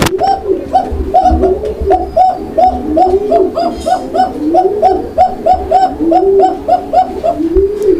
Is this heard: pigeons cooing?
yes